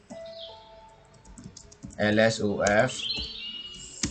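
A Linux command is typed on a computer keyboard, with brief clicking keystrokes under a person's close, clear speech.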